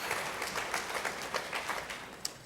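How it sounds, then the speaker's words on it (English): An audience at a business talk claps for a few seconds, a dense spread of many hands with scattered sharper individual claps poking through, fairly close and steady before easing slightly at the end. "clap for that for sure"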